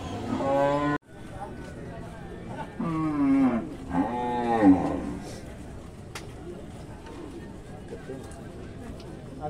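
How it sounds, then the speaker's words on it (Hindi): Buffalo low and moo loudly at a livestock market in Jamui, Bihar, with several drawn-out calls close by between about three and five seconds, and people talking around them. "तो देख सकते हैं काफी अच्छी भैंस है"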